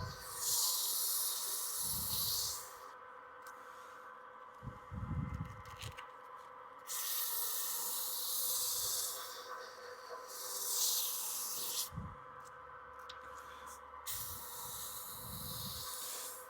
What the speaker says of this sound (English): Now we're just going to run the grits here real quick with a little bit of sanding.